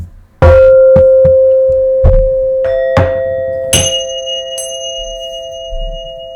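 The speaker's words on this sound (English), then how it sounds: "I'm going to do just a couple chimes." Several chimes are struck one after another, each ringing clear and sustained, their tones overlapping and slowly fading.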